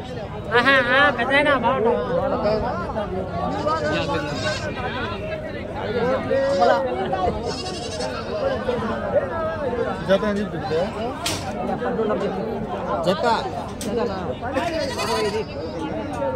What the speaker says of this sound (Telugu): ఇక్కడ భారీ సైజు 2 పొట్టేలు ఉన్నాయి